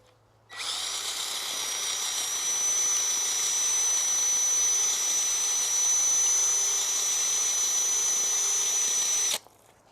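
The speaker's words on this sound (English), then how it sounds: "we'll drill some more holes along here" A power drill runs continuously at a steady high whine for about nine seconds, close and loud, starting and stopping abruptly, while holes are drilled in a garden.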